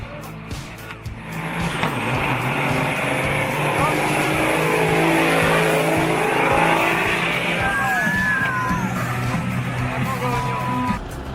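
Powerful trucks rev hard, producing a loud, sustained engine roar that rises and holds for several seconds, with shouting voices mixed into the din.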